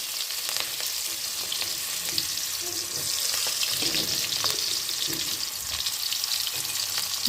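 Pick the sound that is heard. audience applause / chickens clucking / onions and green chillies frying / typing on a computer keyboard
onions and green chillies frying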